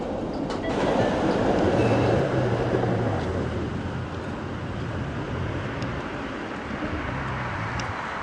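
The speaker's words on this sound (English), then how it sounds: "The tram 44 then seems to leave the city and run through the middle of a forest." Steady rumble of tram 44 rolling along rails through a forest outside Brussels, loud and continuous with a brief swell early on, then a constant mechanical drone; no voices.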